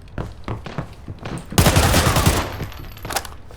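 Gunshots in Arena Breakout Infinite: a few scattered single shots, then a loud close burst of rapid automatic fire lasting about a second, fading into echo.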